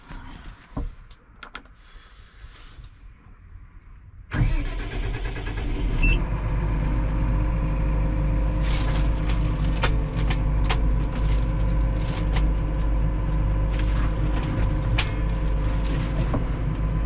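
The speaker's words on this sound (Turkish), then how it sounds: "bir traktör çalıştıralım." After a few quiet seconds of faint clicks, a Massey Ferguson 7715 Dyna6 six-cylinder 150 hp tractor engine cranks and catches, then settles into a loud, steady close idle with a deep rumble.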